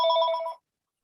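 A telephone ringing with a single bright, warbling electronic trill lasting about half a second, loud and close, then cutting off into silence.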